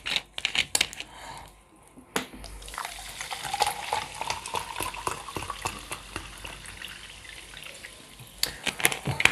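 Sparkling water poured into a glass at a home table, fizzing and crackling bubbles after a few sharp clinks, close and quiet, with small handling noises around it.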